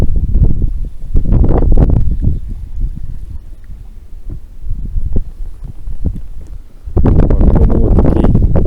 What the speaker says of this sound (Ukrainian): Мені здається, що вже більше як 10 метрів за секунду вітер.